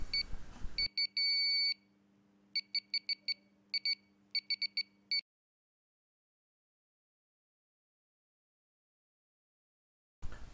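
An Arduino-based multimeter and component tester beeps in continuity mode: a long steady tone, then bursts of short rapid beeps, clear and close before the sound cuts to silence.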